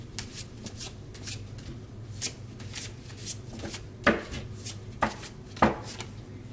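A deck of oracle cards is shuffled by hand close up, giving a run of quick papery riffles and soft slaps in an uneven rhythm, with a few sharper bursts.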